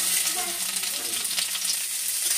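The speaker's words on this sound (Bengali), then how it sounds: "আমি ফুলকপিটা তেলে দেওয়া হয়ে গেছে, আর একটু ভালোভাবে নেড়েও নিয়েছি ফুলকপিটা।" Cauliflower florets, raw rather than boiled, sizzle steadily in hot oil while being stirred in a pan for cutlets, a dense continuous frying hiss with soft scraping, no voices.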